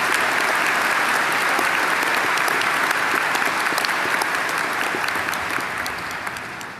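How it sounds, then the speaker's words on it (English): Loud, dense applause from a commencement audience at Towson University's spring 2017 ceremony, a sustained wash of many hands clapping that holds steady for several seconds before tapering off at the end. "Please join me in a round of applause to show our appreciation for their leadership."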